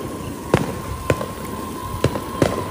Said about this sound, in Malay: Ada lagi bunga api lah pula.